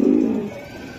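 Racing pigeons of the Budapest breed give a single low, throaty coo, close and fairly loud, fading out within a second.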